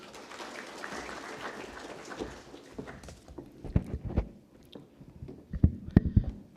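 Applause at a national technical textiles conference starts as a brief burst of crowd clapping, then dies away into a few sparse, separate claps.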